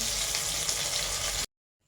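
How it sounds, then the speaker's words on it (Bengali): Steady loud sizzling of fish frying in hot oil, a dense crackling hiss that cuts off abruptly. "বাকিগুলো আবার ভাজতে দেওয়া হলো"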